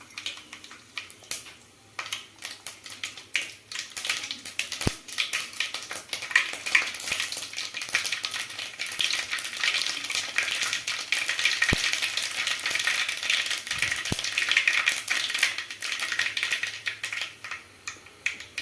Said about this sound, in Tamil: எண்ணெய் சூடானதும் கடுகு போட்டுக்கலாம்.